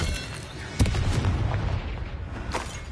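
A Confringo blasting spell detonates in the Hogwarts Legacy video game: one sudden booming blast lands partway in, then a rumbling decay with crackling debris under continuous background game noise.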